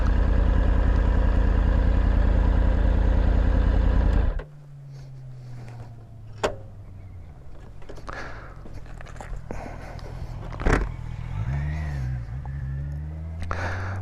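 Triumph Tiger 900 GT Pro motorcycle in A2 35 kW form idling with a loud steady engine drone, then cutting off abruptly, leaving a quiet background with a few clicks and faint handling noises.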